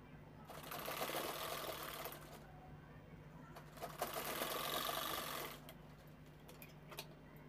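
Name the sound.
sewing machine stitching a handbag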